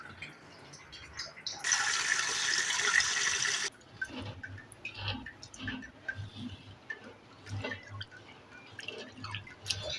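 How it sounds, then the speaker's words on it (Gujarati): Water running and dripping while chickpeas are washed in a kitchen, a brief louder gush of flowing water followed by soft splashes and drips, faint and close. "હવે ચણા ધોઈ ચણા ભેગા બાફવા મૂકી દેવાના છે."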